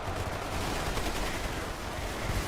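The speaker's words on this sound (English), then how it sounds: "the shotguns are firing from that range" Shotguns firing in a zombie horde video game, a dense continuous barrage of overlapping blasts that sounds loud and steady for the whole stretch, with no talk over it.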